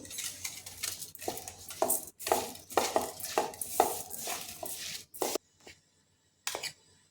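Flour, oil and salt being mixed in a bowl for undhiyu dough, heard as close, rhythmic scraping and clinks of a spoon against the bowl, then a pause and one last scrape.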